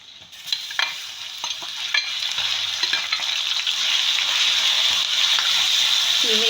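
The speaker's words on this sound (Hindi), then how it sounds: "और अब मैं डाल रही हूँ इसमें कीमा।" Minced meat hits a pan of browned onions and fries with a steady, close sizzle that thickens and grows louder, broken by a few scraping stirs.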